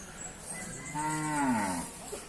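A water buffalo at a livestock market, one of a mother and calf pair, lets out a single drawn-out low moo that rises then falls, fairly close over a background murmur.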